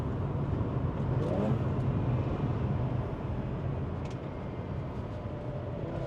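A Mazda RX-8 with its rotary engine accelerating on a public road, a steady muffled engine drone heard from inside the cabin, rising gently then easing, with faint talk over it.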